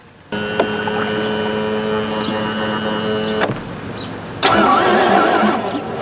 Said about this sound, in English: We're gonna trim her down and see if she'll start.